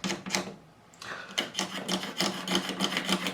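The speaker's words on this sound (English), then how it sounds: "I'm going to scrape away the old glue" A hand scraper drags over the fretboard of a Gretsch G5422 12-string guitar, clearing old glue from the empty fret slots during a refret. The close, raspy strokes repeat in quick succession, with a short pause near the start.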